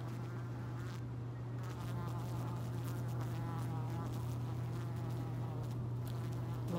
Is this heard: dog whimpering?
no